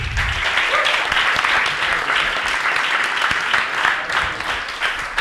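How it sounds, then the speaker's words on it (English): Audience gives a round of applause for the panel at a spiritual debate, a steady burst of dense clapping lasting several seconds. "I think a round of applause for our"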